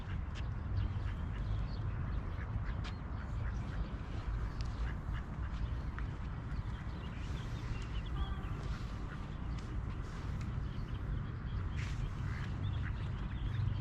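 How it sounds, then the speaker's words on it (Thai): A flock of ducks quacks continuously, many overlapping calls in a busy chorus at moderate distance, with no one speaking. "อุ้ยฝูงเป็ดพุ่นนะ"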